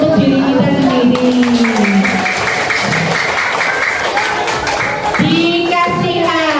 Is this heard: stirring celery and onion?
no